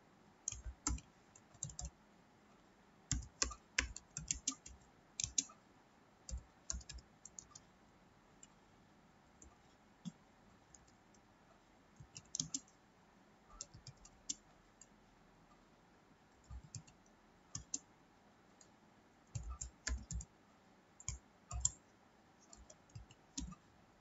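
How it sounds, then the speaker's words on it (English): Quiet, close computer keyboard typing comes in irregular bursts of small clicks separated by pauses, with no voices. "and now we'll type the program"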